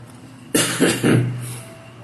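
Three quick coughs in a row, close by, over a low steady background hum.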